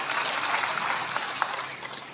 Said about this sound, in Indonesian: Tepuk tangan untuk kami ini.